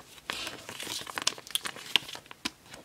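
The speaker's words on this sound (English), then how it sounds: "So let's go ahead and put this one in a" A Pokemon card sliding into a plastic sleeve, giving a close, crisp run of crinkling and rustling plastic with small sharp clicks, brief and handled up near the microphone, no voices.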